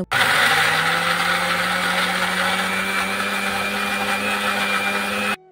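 A kitchen mixer grinder whirs steadily at full speed, grinding garlic, onion and green chilli into a paste, with a loud, continuous motor drone and a rattling blade hum that runs unbroken for several seconds before cutting off.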